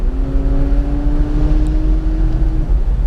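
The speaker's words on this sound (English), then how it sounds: "the engine does make quite a nice noise" McLaren 570S Spider V8 engine holding a steady, loud drone with the roof down, a sustained low rumble and a faint rising tone heard close and alone, no talking.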